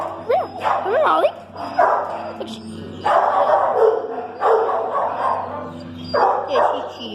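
Several dogs bark and yip at a dog pound, with bursts of barking in clustered rounds and some whimpering in between, fairly close and loud over a steady kennel background.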